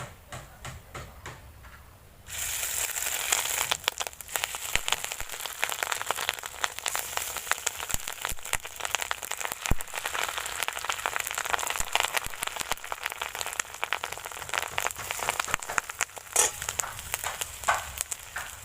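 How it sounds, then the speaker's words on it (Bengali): The remaining fish roe fritters frying in hot oil, a dense continuous crackle and sizzle that starts abruptly after a quiet moment and holds steady and close, with no talking. "বাকি যে ডিমটা আছে একইভাবে বড়াগুলোকে ভেজে নেবে"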